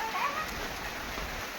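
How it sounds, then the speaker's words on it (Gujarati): Light drizzle falling outdoors, a soft even hiss of fine raindrops pattering on surfaces, steady and moderately close with no voices. "જો ઝરમર વરસાદ આવે છે."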